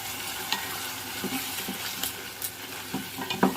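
Prawns fry in a pan for prawn pulusu while turmeric and tomato puree are stirred in. A low sizzle runs under it, broken by scattered spoon scrapes and clicks, close and fairly quiet, with no talking.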